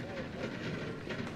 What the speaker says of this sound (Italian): No, mi sento adesso, sento anche un treno.